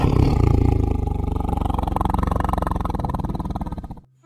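A toy tiger gives out a loud electronic roar sound effect, a sustained growling roar that runs about four seconds before cutting off abruptly, with no talk over it.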